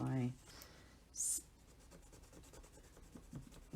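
A pen traces a line across a paper page while making a custom notebook cover, giving a soft, close scratching stroke that comes in short bursts amid quiet room sound.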